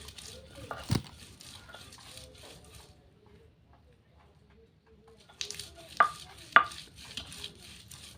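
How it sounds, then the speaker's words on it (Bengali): Green chillies and peanuts being ground into a paste by hand: irregular scraping and a few sharp knocks, close and moderately loud, with a near-silent pause in the middle before the grinding resumes more vigorously. "তো আমি এখন কাঁচামরিচ আর হচ্ছে বাদাম বেটে নিচ্ছি।"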